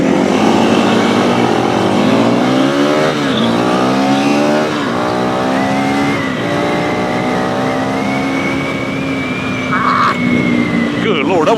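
A Honda CRF300L and a 2025 KTM 390 Enduro R race side by side from a standing start, their engines screaming loudly up through the gears with rising pitch sweeps at each shift, close and continuous, before the revs level off.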